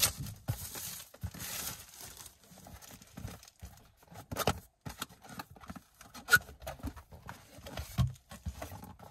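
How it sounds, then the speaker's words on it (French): Packaging around a car stereo screen being unwrapped, soft irregular crinkling and rustling with occasional tearing, close but quiet, with no talk. "Donc l'écran il est là, on va déballer."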